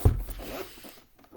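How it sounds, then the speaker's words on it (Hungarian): A white-pulled zipper on a Steam Deck carrying case is drawn open close by, with one short, soft rasp that starts with a sharp tug and fades out within about a second. "Gyönyörű, esztétikus fehér kis húzókával, ugye ennek a cipzára húzója"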